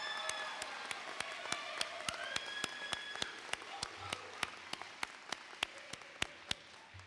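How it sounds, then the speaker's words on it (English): Audience at a community college fall graduation ceremony applauding, a soft wash of distant clapping with a few sharper nearby claps standing out in a regular beat. "So let's give her another round of applause for the great job she did."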